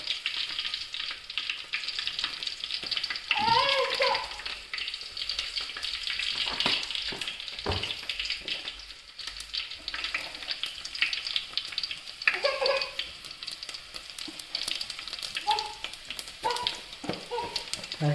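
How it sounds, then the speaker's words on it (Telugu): Mustard seeds sizzle and crackle in hot oil with a steady frying hiss, broken by a few sharper pops and the scrape of stirring, and no talk over it. "ఆవాలు వేసుకుంటున్నా"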